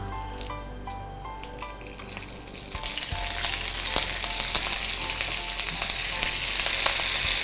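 Roasted gram and curry leaves hit hot oil in a pan for a no-bake batik cake, setting off a loud, dense, crackling sizzle that swells partway through and keeps going, close up.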